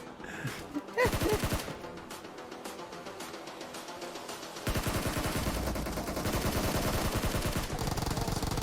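Rapid automatic gunfire sprays continuously in a shooter video game, dense and loud, growing heavier partway through and running under game sound with no talking.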